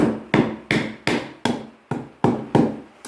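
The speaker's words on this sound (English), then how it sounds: "And I know this glass breaker there, so let's see if you can hammer it in here." A Cold Steel AD10 Lite tanto folding knife's glass breaker is hammered in with eight sharp, loud, close strikes about every 0.4 seconds, each with a brief ringing decay, and no talking.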